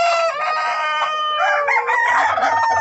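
Bantam chickens in a coop with chicks and feed make dense, loud overlapping calls, steady throughout with no talk. The high cheeping of chicks mixes with a hen's clucks.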